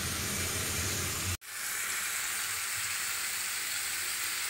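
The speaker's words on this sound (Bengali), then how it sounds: "একবার পুরোপুরি ভাজবো না, টমেটোটা আর পেঁয়াজটা একটু কালারটা চেঞ্জ করে পেস্ট করে নিব" Tomato and onion fry in a pan for chicken biryani, giving a loud, continuous sizzling hiss that drops out for an instant before resuming, with no voices.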